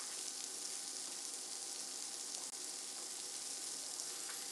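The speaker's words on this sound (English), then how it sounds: "Because it melts down and it starts to sizzle pretty fast." Cheese melts and sizzles in a pan inside an egg ring, a bright, continuous frying hiss with faint crackles and one small clunk partway through, no talking.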